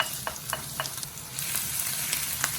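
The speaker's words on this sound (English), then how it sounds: "Mix that together as well. And fry it in the oil." Sliced onion and garlic sizzle in hot oil in a pan, a soft steady frying crackle with occasional light clicks of stirring.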